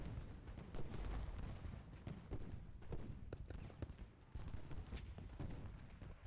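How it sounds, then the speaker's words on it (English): Massed musket volleys from Civil War brigades at Gettysburg in a night battle, a dense, continuous crackle of overlapping gunfire with heavier booming thumps, loud and sustained throughout. "brigades firing volleys into him simultaneously"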